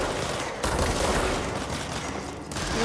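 Rapid gunfire directed at the player in the video game Control, a dense continuous crackle of shots with mechanical rattling, loud and close, with no pause.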